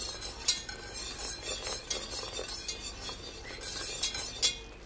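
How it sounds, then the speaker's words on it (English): A utensil scrapes and clinks against a pot while seafood boil sauce is stirred, soft irregular taps and scrapes over a faint background hiss, fairly quiet and close. "Just continue to stir it."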